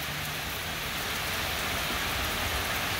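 Steady rain falls on a rainy day, a dense, even hiss of drops on surfaces that holds at a constant level for the whole stretch with no other sounds.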